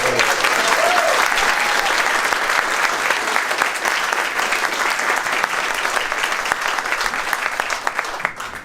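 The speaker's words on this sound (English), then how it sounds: "Let's give him a round of applause." Sustained audience applause fills a brewery hall during an annual meeting, dense and steady clapping from a crowd that tapers off near the end, with no talking over it.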